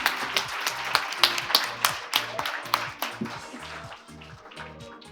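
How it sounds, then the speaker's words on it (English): A small audience at a research proposal presentation claps, with distinct individual claps over a steady patter and a repeating low hum underneath, gradually tapering off over about five seconds. "I think we should have a big clap for all of them."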